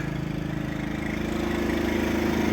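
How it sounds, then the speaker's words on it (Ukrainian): A petrol generator runs steadily in a garage during a power outage, a continuous throbbing engine drone with regular low pulsing, fairly loud and unbroken. "Зараз світла немає у нас, працюємо на генераторі. Е, генератор димить вон в гаражі."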